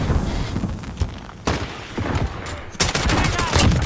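Thermite grenade bursting in Call of Duty Modern Warfare / Cold War multiplayer, a sharp boom followed by crackling bursts amid dense gunfire and explosions, with players talking over the chaotic battle.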